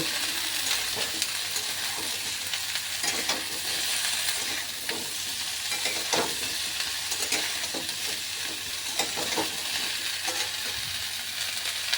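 Cauliflower florets sizzle in hot oil in a pan for a Bengali dry cauliflower-tomato curry, a loud, constant frying hiss broken by repeated scraping stirs of a spoon, with no talking.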